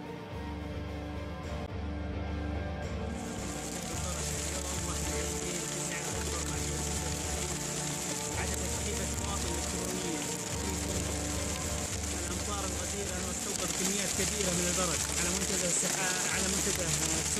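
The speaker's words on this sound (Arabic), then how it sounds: "جعلها الله أمطار خير وبركة يا رب العالمين، أمطار غزيرة جدا" Very heavy rain pours down steadily in southern Saudi Arabia's Asir region on a hail-covered day, a dense continuous hiss that stays loud throughout with no pauses.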